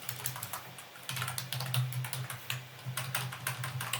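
Computer keyboard typing, a quick run of soft key clicks in bursts with brief pauses, close and quiet, over a low steady hum.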